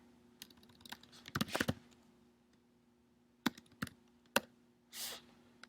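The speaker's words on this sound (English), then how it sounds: "you can type in anybody's name that you want to share with" Typing on a computer keyboard: scattered quiet key clicks and short clusters of taps with pauses between them, close by, with no speech.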